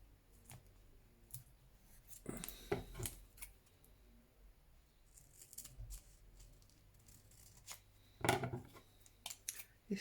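Scissors snipping through paper in scattered crisp cuts, a few louder bursts of clipping between quieter gaps, close by and without speech.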